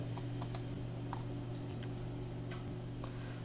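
A computer mouse clicks in FTIR instrument software: a few faint, sparse clicks over a steady low machine hum.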